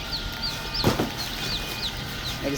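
Sonali-type broiler chicks at a hatchery give thin, high peeps that repeat steadily over a constant background din, with a brief dull thump partway through.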